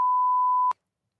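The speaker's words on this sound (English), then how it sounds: "enjoy this beep" A single steady electronic beep tone holds for under a second, then cuts off abruptly with a brief click, followed by silence.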